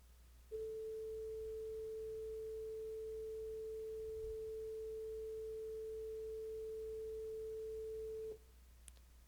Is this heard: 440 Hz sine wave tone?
yes